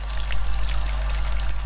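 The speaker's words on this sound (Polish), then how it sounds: "Czego ta woda się leje jak strumyk?" Water pours steadily like a stream in the horror video game Layers of Fear 2, a loud, continuous rushing splash with a low hum underneath and no talking.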